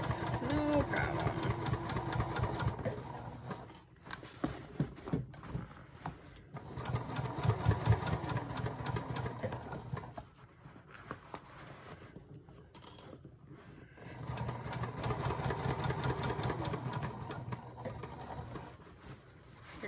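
A sewing machine stitches interior and exterior purse panels together in bursts of rapid mechanical chatter, pausing between runs as the fabric is turned, with a voice talking over parts of it.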